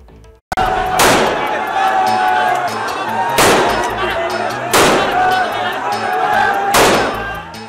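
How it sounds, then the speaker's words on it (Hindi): Heavy AK-47 gunfire on a street in Patiala comes as a few loud, sharp bangs spaced a couple of seconds apart, with crowd noise underneath. "AK-47 की गरज"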